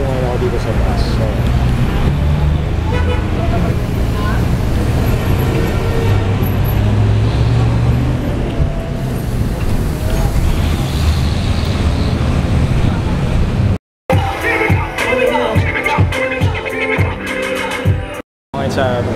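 Inside a crowded city bus in Manila traffic near Muñoz, a constant low engine rumble and road noise fill the cabin while someone talks over it, with brief cuts near the end.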